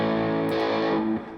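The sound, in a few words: electric guitar through Line 6 Pod Express distortion effect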